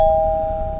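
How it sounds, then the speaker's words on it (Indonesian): A house doorbell rings with a single sustained electronic tone, loud and close, lasting under a second. "Hingga akhirnya ada suara bel rumah berdentang."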